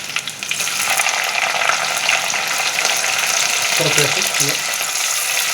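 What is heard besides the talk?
green chillies frying in a pan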